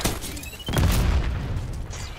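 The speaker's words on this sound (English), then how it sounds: "Impact grenade arm." Impact grenade blast in Black Ops 6 multiplayer: a sudden heavy boom with a low rumble that swells and lingers for over a second before fading, standing alone without speech.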